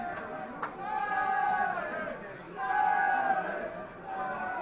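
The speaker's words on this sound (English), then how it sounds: "Home fans trying to cheer them on" Home football fans at a non-league FA Trophy match, Marine AFC against Stocksbridge Park Steels, cheering and chanting at a distance in two rising swells, a diffuse crowd roar without close talk.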